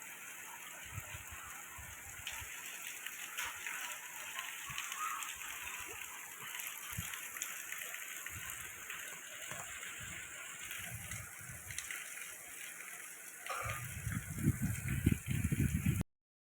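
Steady rain patters and hisses outdoors at a Shiva temple, with faint voices and scattered low thumps; toward the end a louder splashing rush rises close by.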